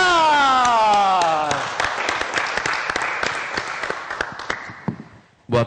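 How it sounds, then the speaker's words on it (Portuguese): A church congregation breaks into clapping as a speaker is welcomed, with an amplified voice at the start, then scattered, uneven claps that thin out and fade near the end. "Vamos aplaudir o embaixador da"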